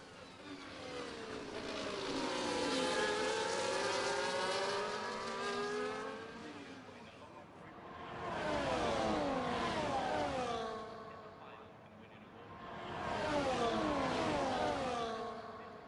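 Formula One race cars from the F1 24 video game at the Brazilian GP scream past in three waves, high engine whine rising and falling as each car approaches and recedes, fairly faint.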